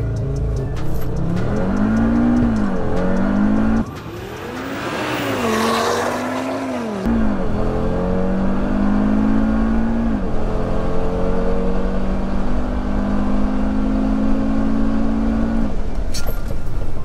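A Stage 2 tuned Audi RS3 or RS5 accelerating hard on a quarter-mile run, engine note climbing through several gearshifts with brief dips between them, loud and close, with a rush of wind in the middle.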